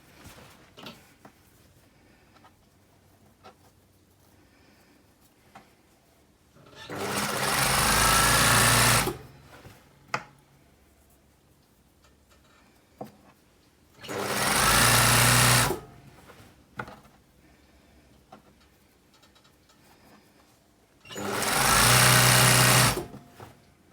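Sewing machine stitching a blouse seam in three short, loud whirring bursts of about two seconds each, separated by quiet pauses with faint handling clicks.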